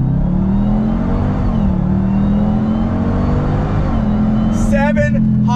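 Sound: Dodge Durango Hellcat SUV accelerating, automatic transmission

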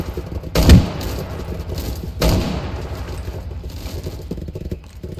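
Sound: gunfire in a Roblox video game

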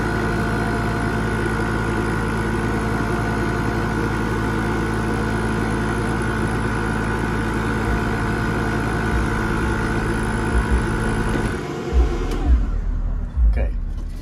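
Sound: K40 laser cutter with air assist pump and exhaust running

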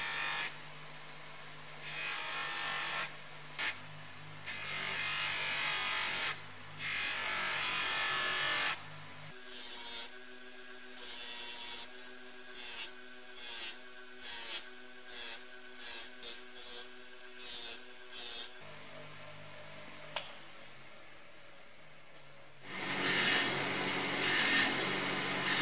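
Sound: polishing small metal parts of a vintage money checker

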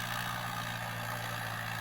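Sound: tractor-mounted rotovator tilling dry farm soil

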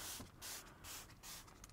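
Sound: spraying Koch Chemie MultiInteriorCleaner onto upholstery

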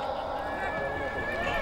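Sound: horse neighing at a buzkashi game

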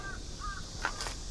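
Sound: crows cawing

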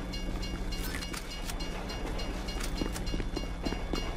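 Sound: train passing in video game GTA V

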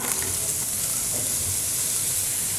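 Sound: onions frying in melted butter and olive oil

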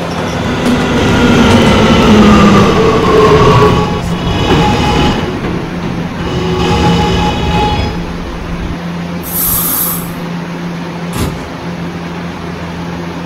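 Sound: subway train ride in Roblox video game

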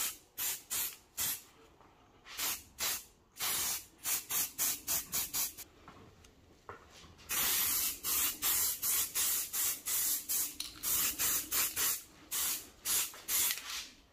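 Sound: spray painting Aprilia RSV Mille motorcycle parts

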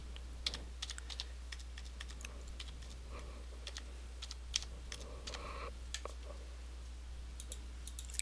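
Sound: typing a library barcode number on a computer keyboard

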